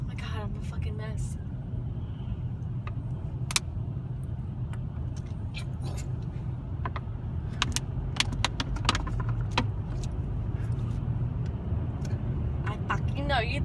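A car drives through New York City traffic, a steady low engine and road rumble inside the cabin, with scattered clicks and rattles over it, while people talk throughout.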